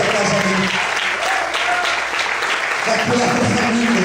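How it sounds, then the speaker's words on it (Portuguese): A church congregation applauds loudly, a dense, continuous roar of many hands, while a voice speaks over it. "Você pode aplaudir ao Senhor?"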